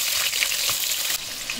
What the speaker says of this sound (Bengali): আগেও বলেছি সর্ষের তেল খুব গরম করে তারপর ভাজতে হয়। একদম ধোয়া উঠছে এই সময় ভাজবো।